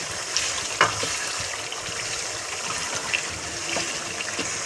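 Chicken frying over low heat for a chicken gravy, giving a steady, dense sizzle with a few faint scrapes and clinks of stirring.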